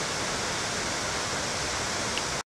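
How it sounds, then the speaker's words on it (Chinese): The waterfall at Jingpo Lake roars as a dense, steady broadband wash of falling water, continuous and fairly near until it cuts off abruptly at the end. "我就喺嗰度影瀑布啦"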